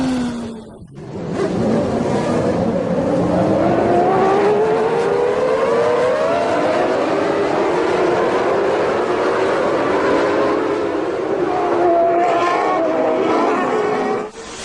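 Formula 1 race cars at the start of a 1993 race, a loud continuous high-revving engine scream with rising pitch sweeps as the field accelerates, several cars blending together, filling the whole stretch.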